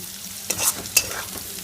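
Potatoes frying in a pan give a soft sizzle under two sharp scraping strokes of a spatula, close and clear, with quieter stirring noises between.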